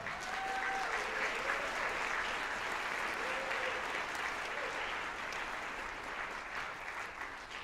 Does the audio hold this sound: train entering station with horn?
no